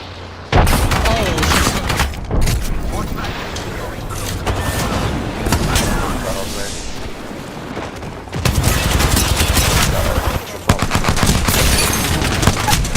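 Frag grenade blast and rapid gunfire in the Apex Legends battle royale, loud bursts of shots and booms running almost continuously with a brief lull, a voice talking over the fighting.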